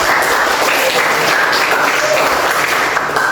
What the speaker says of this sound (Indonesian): kita kasih aplaus dulu kelompok